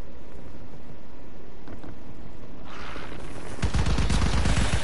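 Sustained automatic gunfire in a zombie video game with unlimited ammunition, fired by holding R2 without reloading; a quieter stretch gives way to dense, rapid, loud bursts that grow heavier toward the end.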